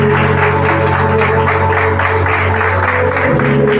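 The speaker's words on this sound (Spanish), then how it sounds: "Denle un fuerte aplauso al Señor por eso." Church congregation giving loud, sustained applause over steady sustained music and tones, a dense continuous clapping texture throughout.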